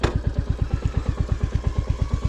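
Royal Enfield Classic 350 motorcycle climbing a wet, muddy track over hard ground, its single-cylinder engine thumping in a steady, rapid low pulse, close and fairly loud throughout.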